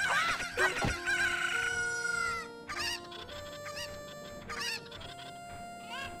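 Cuckoo chickens in the video game The Legend of Zelda: Ocarina of Time, a loud squawk followed by a run of repeated clucks over a light melodic game backdrop.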